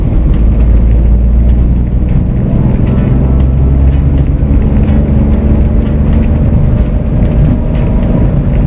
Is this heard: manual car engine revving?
yes